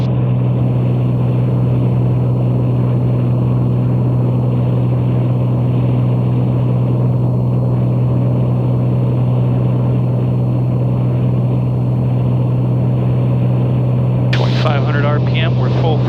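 A Piper Comanche 250 engine and propeller at full throttle in a climb, a loud, steady, unbroken drone heard from inside the cabin, with talk over it and a brief burst of radio noise near the end.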